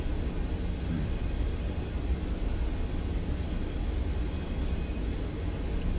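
A Boeing 737-800 auxiliary power unit in a simulated flight gives a steady, loud low roar with broadband hiss that holds evenly throughout, without a clear spool-up.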